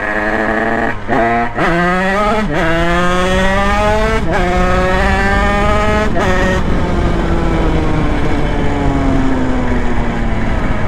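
A motor revs hard on a street during urban rodeo riding, rising in pitch through several sharp shifts before settling into a long, steady, loud drone close to the listener.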